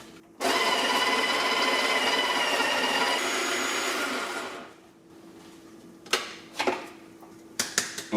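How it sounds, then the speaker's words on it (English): An electric coffee grinder runs loud and steady for about four seconds, grinding pre-weighed coffee beans for Cuban coffee, then winds down and stops, followed by a few sharp clicks and knocks. "I keep the grinder empty, so I weigh my beans before I put them in there"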